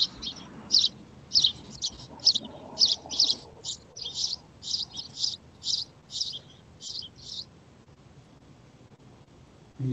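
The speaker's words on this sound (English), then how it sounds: "You've got a lot of birds out there." Many small birds chirp outdoors in a rapid series of bright, repeated calls for about seven seconds, fairly close, over a low background hum, then fall quiet.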